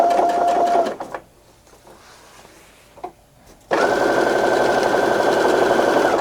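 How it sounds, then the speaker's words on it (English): A sewing machine quilting a log cabin quilt block runs in loud, fast continuous bursts, stopping for a few quiet seconds with faint handling noises, then whirring steadily again. "You can see how fast the quilting goes."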